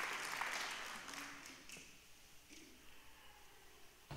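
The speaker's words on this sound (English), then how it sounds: "please, let's welcome, warm round of applause, to Diego Sepúlveda." Audience applause at a community summit welcome session, a fairly faint clatter of clapping that fades after the first two seconds.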